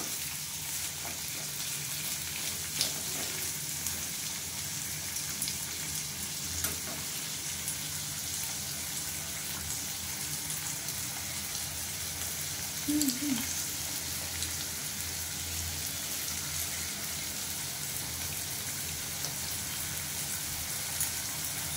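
Lote fish frying in a pan, a constant soft sizzle that carries on evenly and faintly for the whole stretch, with a few small stirring clinks.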